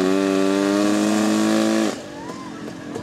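A two-stroke mud drag racing vehicle screams at high revs with a sharp whining buzz for about two seconds, then cuts off abruptly, leaving a quieter rumble and crowd noise at an outdoor mud drag event.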